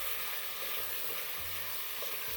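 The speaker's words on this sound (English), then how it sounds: "Frying away with the onions." Steady hissing sizzle of beef frying with onions in a hot pan, close and continuous, with faint stirring scrapes.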